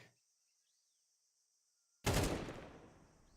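Counter-Strike gunfire lands a headshot in a professional esports qualifier match: near-silence gives way to a sudden loud burst of shots that rings out and slowly decays.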